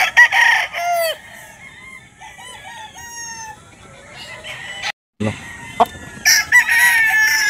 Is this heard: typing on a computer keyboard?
no